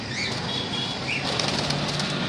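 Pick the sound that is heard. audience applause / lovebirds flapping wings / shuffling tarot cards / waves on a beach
lovebirds flapping wings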